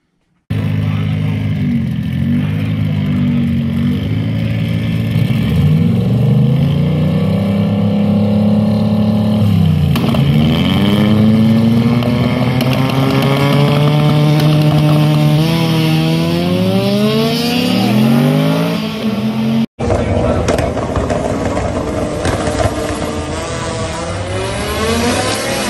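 A street car roars through a drag racing pass, loud and close, with repeated rising revs and gear shifts. After a brief cut, more engine noise from the event follows.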